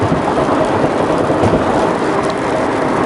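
Heavy rain while driving on a South Carolina road, a loud, dense, constant roar of water and road noise filling the cabin steadily without pause or speech.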